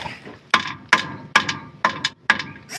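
Rubber hammer striking the cross member under a Mitsubishi Pajero, five sharp knocks at an even pace about half a second apart, each ringing briefly with a metallic rattle, loud and close.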